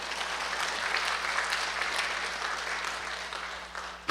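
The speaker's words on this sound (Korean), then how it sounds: "하나님께 영광의 박수." Churchgoers in a congregation clap together in a steady, moderately distant round of applause that lasts a few seconds, giving glory during a church service.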